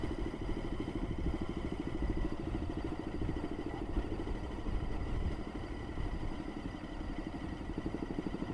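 A motorcycle engine runs at a steady idle up close, a rapid low rhythmic chugging with a mechanical clatter that continues unbroken, with no voices.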